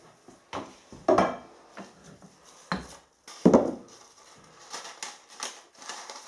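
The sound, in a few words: peppercorns being crushed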